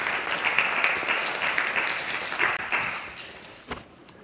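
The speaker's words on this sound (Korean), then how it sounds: "이럴 때는 수고했다고 박수를 쳐주셔도" Church congregation applauding after the pastor asks for a round of clapping during a sermon, a steady moderate burst of claps that fades out toward the end.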